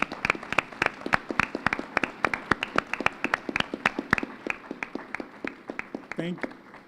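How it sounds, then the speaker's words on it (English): Applause from a small group of audience members at a city town hall meeting, heard as distinct, fairly sparse hand claps in a quick, uneven rhythm that thin out toward the end, with a brief voice near the close. "Let's give a round of applause."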